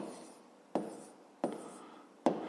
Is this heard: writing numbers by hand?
yes